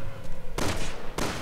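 Gunfire from Resident Evil 6, two sharp broadband blasts in quick succession, loud and close, each with a short noisy tail, over a low game ambience.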